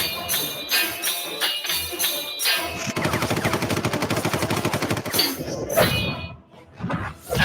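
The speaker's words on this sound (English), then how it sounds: "I mean, bullets aren't going to take out Kratos." Rapid gunfire and metallic clangs in a Kratos versus Spawn fight: a few sharp shots, then a dense sustained burst like machine-gun fire, followed by more scattered hits and clanks, loud and close.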